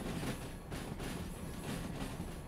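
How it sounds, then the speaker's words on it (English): A locomotive in the Derail Valley train game rolling steadily along rails, a continuous low rumble with faint rhythmic clatter, close and even throughout with no talk. "I will start braking when the locomotive gets onto the siding."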